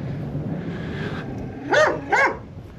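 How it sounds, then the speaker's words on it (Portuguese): A pit bull barks twice in quick succession, fairly close and loud, at a rural property with low background noise in between. "É um pitbull que ela tem. Ela falou que não morde, mas ele late, né?"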